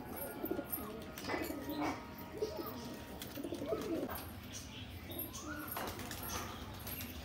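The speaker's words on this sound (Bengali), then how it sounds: "এটাও একটা নর পায়রা।" Male pigeons at a pigeon sale in Ichapur, West Bengal, give low soft cooing calls in scattered phrases, fairly quiet, against a busy murmuring background.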